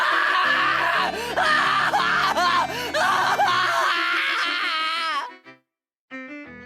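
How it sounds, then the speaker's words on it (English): A loud, high wailing scream from the video game Higurashi When They Cry rises and falls in several long, strained bursts for about five seconds, then cuts off abruptly, followed by a brief faint tail. "I fought them back with a scream of my own"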